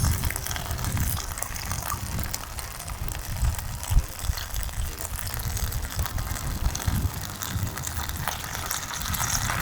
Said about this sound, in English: now we're going to put the water in these